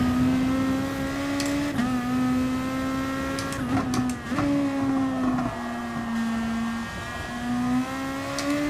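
Race car pulling out of the pits on cold fresh tyres in Gran Turismo Sport, a loud, close, steady engine drone with a few brief shifts in pitch as gears change, no talking.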